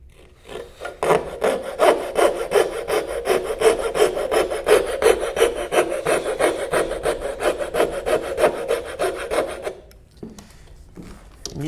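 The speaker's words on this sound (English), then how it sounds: "just use the coping saw" A coping saw cutting a shape out of wood for a Moravian workbench, steady rhythmic back-and-forth rasping strokes close up for about ten seconds, then a few light scrapes and taps as it stops.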